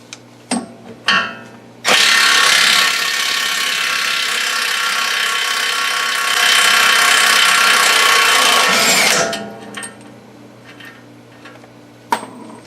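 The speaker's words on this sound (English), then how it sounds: "what I'm going to do is I'm going to hit it with the impact and see if it'll break it loose." Impact gun on a Ford Mustang front hub nut, a few short taps, then a loud continuous rattling hammer lasting about seven seconds before it stops, followed by faint clicks close by.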